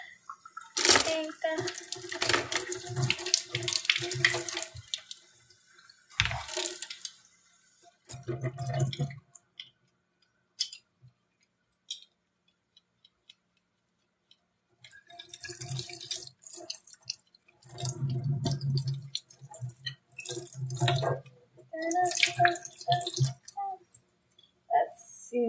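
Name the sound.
washing children's paint brushes under a running tap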